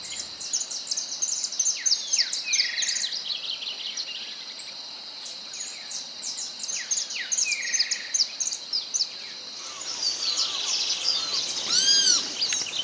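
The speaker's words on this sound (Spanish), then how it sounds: "Un grupo de jilgueros reposan y cantan en las ramas del árbol" Goldfinches perched on tree branches in Argentine grassland near the Saladillo Dulce, Santa Fe, sing with rapid high twittering phrases over a steady bed of insect buzz, mid-distance and continuous.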